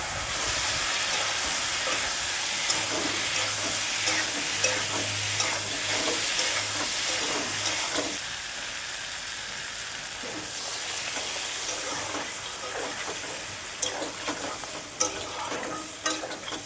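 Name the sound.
stir-frying potato and pointed gourd with sugar in little oil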